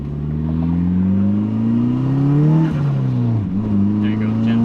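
A 1998 Eclipse GS-T accelerates hard with a loud, rising engine drone, then the throttle eases and the turbo flutters as the revs dip and climb again.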